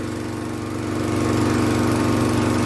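SkyVac gutter vacuum switched to blow mode, pushing heavy soil out of its hose, a steady loud motor drone with a hum that swells slightly after the first second and holds.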